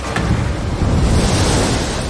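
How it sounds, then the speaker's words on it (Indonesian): Large waves at sea crashing against a boat, a loud continuous roar of surging water and wind buffeting close by, with no voices. "Ombak besar menghantam kapal mereka."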